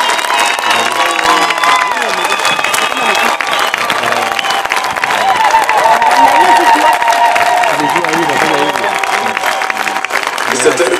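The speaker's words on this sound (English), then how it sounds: "Can we clap for the Lord?" A church congregation claps and cheers together in a steady, dense wave of applause that fills the room, loud and sustained throughout with crowd voices mixed in.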